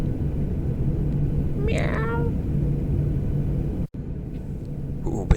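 A pilot's voice imitates a cat meow over aviation radio, a short rising-falling meow heard through the radio channel's steady hiss and rumble, followed by a sharp click.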